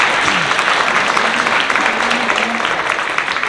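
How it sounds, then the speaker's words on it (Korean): Wedding guests applaud the bride and groom with steady, dense clapping throughout, a faint voice briefly audible underneath. "이렇게 고생하신 신랑 신부께 뜨거운 박수 다시 한번 부탁드리겠습니다."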